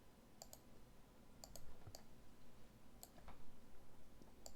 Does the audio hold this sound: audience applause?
no